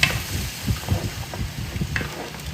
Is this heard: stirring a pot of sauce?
yes